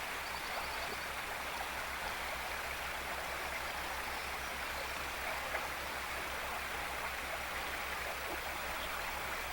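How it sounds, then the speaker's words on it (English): A slow-moving stream in a British garden on a July day, steady broadband water rush flowing continuously and fairly loud, with a low engine-like hum underneath and no talking. "The water's moving slowly."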